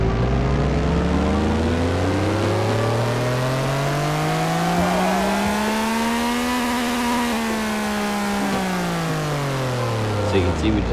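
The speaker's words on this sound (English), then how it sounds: "So you can see we just slipped into second gear just like that, and we easily gapped our opponent" A race car engine in the Pixel Car Racer video game gives a loud, continuous droning whine that climbs in pitch, holds, then eases down as it shifts into second gear.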